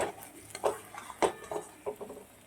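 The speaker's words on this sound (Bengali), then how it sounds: "কাজু বাদাম বাটাটা দিয়েও আমি একটু কষিয়ে নেব মশলাটাকে" Masala with cashew paste stir-fried in a pan for Bengali rui fish kalia, heard as a quick run of close spatula scrapes and clanks against the metal pan with a faint sizzle beneath, no voices.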